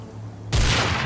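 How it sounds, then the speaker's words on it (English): A sudden loud explosion in the survival game Rust bursts in after half a second of quiet and keeps roaring as a dense, broad blast to the end of the short clip. "Something exploding."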